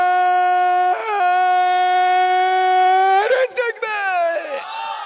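Crowd at a Ramadan sermon gathering shouting the takbir chant in drawn-out, sustained unison cries, loud and close, with the pitch sliding at the end.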